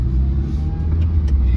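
A Mazda Miata on a test drive while running errands hums with a steady low engine and road rumble heard from inside the cabin, with no talking over it.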